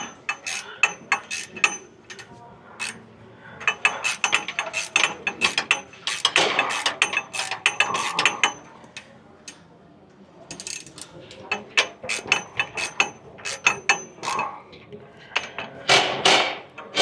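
Close ratchet clicks and clanks come in repeated short bursts while DuroBump bump stops are snugged down on a Lexus GX470, with pauses between the bursts of clicking.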